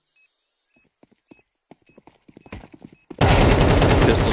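Gunfire in the Counter-Strike 2 video game, a pistol against an AK rifle in a match at the PGL CS2 Major Copenhagen 2024: spaced sharp shots build into a rapid burst, then a sudden loud, dense roar of noise.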